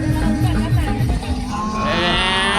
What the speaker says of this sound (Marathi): गाय आली गाय